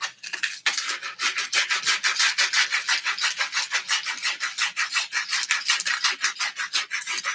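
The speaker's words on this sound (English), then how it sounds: "Got enough grit on the sandpaper to start foiling the tip at least." Sandpaper rubs briskly over a wooden wand in quick, regular back-and-forth strokes, a close, dry rasping rhythm heard alone.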